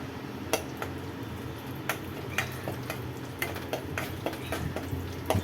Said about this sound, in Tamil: இதை லைட்டாக எண்ணெயிலே பொரியட்டும்.